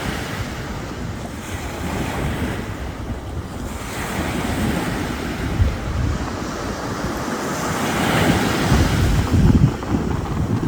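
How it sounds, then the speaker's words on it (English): Ocean waves and strong wind during Hurricane Debbie, with a steady roar of surf and gusting wind buffeting the microphone. The noise swells louder toward the end, and no one speaks. "The sound of the waves is mesmerizing."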